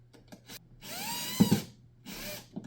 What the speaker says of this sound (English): get a Phillips head screwdriver, and screw it in